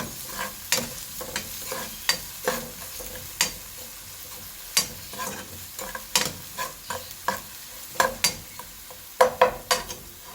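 Onions with green chilies and salt frying in hot oil sizzle softly underneath frequent sharp spatula taps and scrapes against the pan, close and irregular, with no speech.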